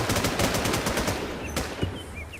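Rapid automatic gunfire rattles out in a dense burst during a firefight in the video game Infestation, then thins to a few scattered shots and a louder single crack, with no talking.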